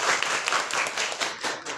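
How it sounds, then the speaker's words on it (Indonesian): A school class clapping hands together, dense and fairly loud, continuous for under two seconds with no talking. "Tepuk tangan."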